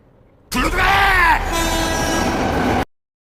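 A train passes with a steady rumble, its horn sounding a long, drawn-out toot, close and loud before cutting off abruptly.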